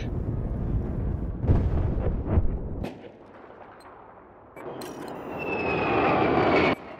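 A Battlefield 4 airplane's engine roars, with loud gunfire and explosion-like blasts at the start, then a quieter stretch, then a rising, steady jet whine.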